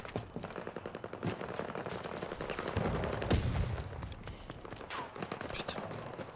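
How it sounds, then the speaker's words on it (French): Shotgun and other gunfire in the online shooter Battlefield 2042, a dense string of sharp, loud reports with rapid bursts and a heavier blast near the middle, over a busy game soundscape. "c'est un fusil à pompe, je déteste ça"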